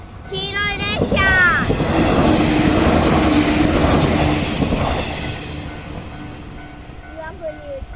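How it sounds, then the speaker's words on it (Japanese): A yellow train on the Sanyo Main Line in Japan rolls past near a railway bridge, a loud close rumble that swells and then fades, with horn-like tones at the start and voices talking over it. "来る。 黄色い列車。"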